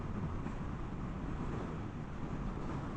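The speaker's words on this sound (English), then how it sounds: "it's fucking windy" Wind blowing outdoors on a very windy September day, a continuous low rumbling gust buffeting the microphone, steady and loud with no talking.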